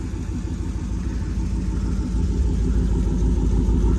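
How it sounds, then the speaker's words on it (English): A cammed Jeep SRT idles close by with a loud, lumpy, rumbling beat that stays steady and grows slightly heavier toward the end. "Este árbol de leva sí tiene un buen sonido."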